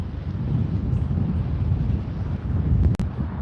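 Wind blows outdoors on a gusty, overcast day, a steady low rumble of gusts across the microphone, moderately loud and without speech.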